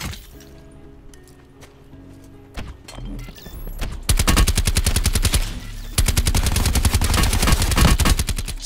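Rapid automatic gunfire from the video game Call of Duty Black Ops 4 Blackout, starting sparse and building into loud, sustained bursts of machine-gun fire during the second half.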